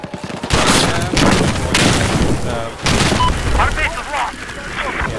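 Varmint rifle shots in Battlefield 4 gameplay: several loud booming reports with rumbling tails in quick succession, mixed with other game noise and a voice talking over it.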